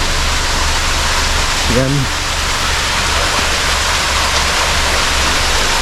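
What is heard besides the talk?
small waterfall near a cave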